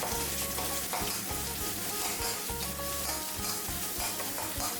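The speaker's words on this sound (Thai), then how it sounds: "จากนั้นผัดพริกแกงเผ็ดให้เหลืองหอมก่อนครับ" Red curry paste stir-fries in hot oil in a wok for a spicy catfish dish, a loud dense sizzle with rhythmic scraping strokes of the spatula throughout.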